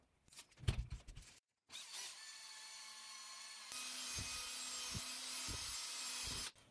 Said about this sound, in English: I used 8 cm buffing pad on a drill and a regular automotive polishing paste